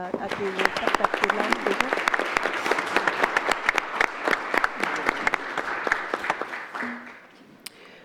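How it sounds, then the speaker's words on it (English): An audience at a closing session in Pond Inlet applauds the facility staff, steady crisp clapping from many hands that tapers off near the end, with a voice briefly audible. "I'd like to give them a round of applause"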